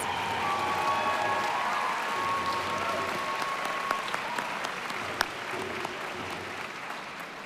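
Sustained applause from a large graduation ceremony audience, steady and fairly distant, with dense overlapping claps and a few sharper individual claps, no talking over it.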